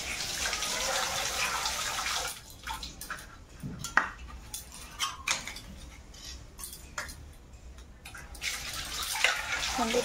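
A wok is washed under a running kitchen tap, with steady water hiss at the start and end and scattered clanks and scrapes of metal in between.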